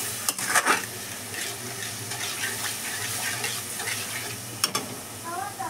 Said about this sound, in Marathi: कलर येईपर्यंत चांगलं उकळून द्यायचं.